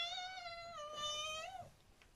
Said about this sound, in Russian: мяукает